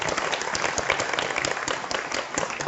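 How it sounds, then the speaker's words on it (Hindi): An audience at a Safe Shop business seminar in Hajipur breaks into loud, dense, continuous applause that fills the room from start to finish. "जोरदार ताली उनके लिए"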